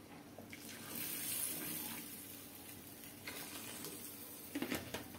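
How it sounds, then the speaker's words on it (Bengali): Water is poured into a cooking pot holding a Bengali rohu fish curry with eggplant, giving a soft, steady splashing that swells briefly and then continues quietly, with no talk. "আর একটু জল দিই,"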